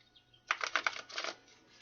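A deck of tarot cards is shuffled up close in one quick, crisp flurry of fluttering card snaps that lasts under a second and then trails off into quiet.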